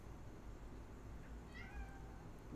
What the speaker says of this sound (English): we need to get this cat off me